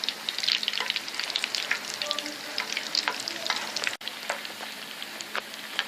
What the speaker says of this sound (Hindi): शैलो फ्राई करेंगे, डीप फ्राई नहीं करेंगे।